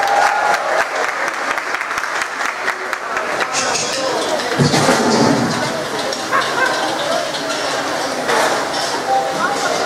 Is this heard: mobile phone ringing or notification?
no